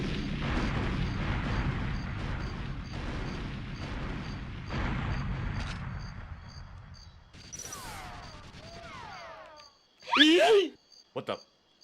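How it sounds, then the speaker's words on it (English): A grenade blast and rattling gunfire in a first-person shooter, with sharp booms and crackling shots in the second half after a stretch of mixed game noise, loud and close. "some dude just hit me with a grenade or something"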